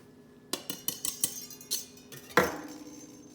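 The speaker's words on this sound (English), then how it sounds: "So now we're gonna mix our dry ingredients in with our wet ingredients" Dry ingredients being mixed into wet cookie batter, a series of light clinks and taps of a utensil against a bowl followed by one sharper knock, fairly close and faint.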